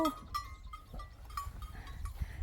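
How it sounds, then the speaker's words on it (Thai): Sheep on a Norwegian hillside give a few faint, distant bleats over a low rumble of wind and outdoor background noise. "มีแกะอยู่ข้างล่างด้วยเห็นไหม"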